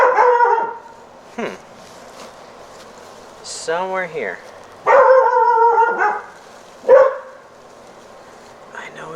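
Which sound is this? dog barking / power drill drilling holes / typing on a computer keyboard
dog barking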